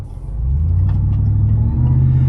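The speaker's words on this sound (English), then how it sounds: "It does have a bit of a grumble because of the aftermarket exhaust." A 25-year-old supercharged truck idles with a low, steady grumble through its aftermarket exhaust, a close and continuous rumble that builds slightly in the first half second and then holds level.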